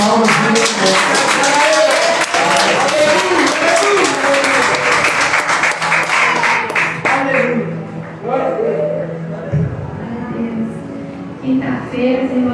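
A church congregation applauds during a Sunday service, dense sustained clapping from many hands that fills the room for several seconds before thinning out and fading to a few scattered claps.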